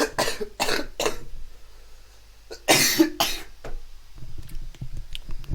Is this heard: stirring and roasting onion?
no